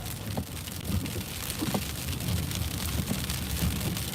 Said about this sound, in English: We are about to change over from heavy snow into a freezing rain and sleet type of a mixture. You can hear it impacting the windshield.